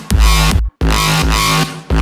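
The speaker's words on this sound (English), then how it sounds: "It has that high frequency grit that goes along with the growl." Dubstep growl bass from a Massive synth, loud, heavy, throbbing notes with gritty high-end distortion, played in two long bursts separated by a short gap and a brief final hit.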